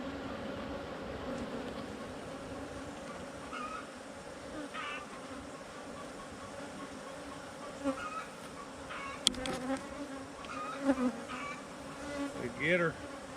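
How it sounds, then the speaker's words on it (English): Honey bees in an opened hive full of brood hum steadily and close, a continuous dense buzz with individual bees darting by near the end, no talk. "Look at the hive bees."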